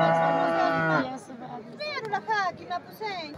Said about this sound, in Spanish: Acá tenemos una vaca hermosísima, como se puede ver, una vaca colorada.